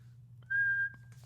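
A single short, high-pitched whistle imitating a dog whistle, one clear steady tone lasting under half a second, close and alone over a faint low hum.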